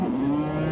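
A dairy cow at a Qarshi cattle market lows once in a steady, droning moo, close and loud, with no talk over it.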